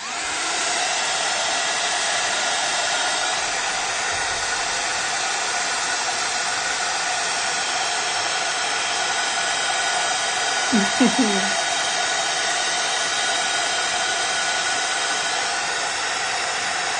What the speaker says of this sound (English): I'm going to use my heat gun again to make sure that everything is completely